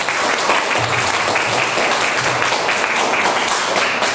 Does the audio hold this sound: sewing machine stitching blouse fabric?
no